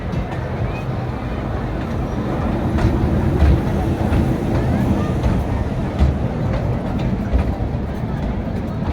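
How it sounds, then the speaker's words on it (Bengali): A small amusement park ride train rumbles steadily close by, a low continuous roll with faint rhythmic clatter, lasting the whole stretch amid general background noise. "গোল্ডেন স্টার পার্কে ট্রেনের ব্যবস্থা আছে সবাইকে বিনোদন দেওয়ার জন্য। এটা হচ্ছে ট্রেন রাইডের বিনোদন স্পট।"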